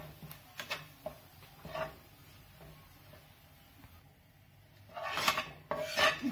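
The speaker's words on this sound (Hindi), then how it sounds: "बेसन को चलाते रहें" A spatula rasps and scrapes through gram flour roasting in a pan over low heat, in irregular close strokes with quieter gaps between, ending in a louder cluster of scraping.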